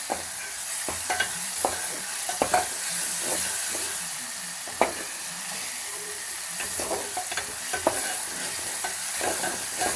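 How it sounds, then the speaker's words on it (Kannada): Garlic and masala paste fries in oil in a pan for an oil-brinjal curry, giving a steady, close sizzle with frequent scraping and stirring taps from the spoon throughout, with no talking. "ಸ್ವಲ್ಪ ಫ್ರೈ ಮಾಡ್ತಾಯಿದ್ದೀನಿ ಪೇಸ್ಟ್ ವಾಶ್ ಹೋಗೋವರೆಗೂ ಫ್ರೈ ಮಾಡ್ತಾಯಿದ್ದೀನಿ"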